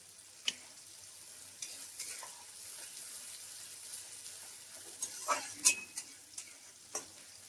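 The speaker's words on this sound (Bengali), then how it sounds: "এগুলো ভালো করে একটু ভেজে নেবো, লাল লাল হয়ে গেলে তারপরে মশলা দেবো" Onions and green chillies frying in a pan, with a faint steady sizzle and occasional clinks and scrapes of a spoon, quiet and close with no talking.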